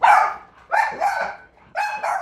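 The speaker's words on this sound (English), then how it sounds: "And that's why he barks at her." A Boston terrier barks in three close, sharp bursts, the last one doubled, with brief quiet gaps between and no talking.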